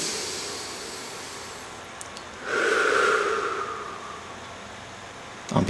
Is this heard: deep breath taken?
yes